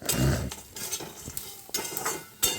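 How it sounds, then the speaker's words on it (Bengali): Spiced chanachur snack mix being stirred in a pan, with a loud initial scrape followed by intermittent metallic clinks and scrapes of a spoon against the pan and a faint sizzle underneath, no talking. "এরকম করে এবার আমি আবার নাড়তে থাকবো"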